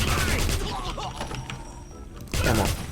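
Assault rifle gunfire from an StG in the Wolfenstein (2009) shooter, heard as dense bursts of shots near the start and again at the end, with a quieter stretch of combat noise between them.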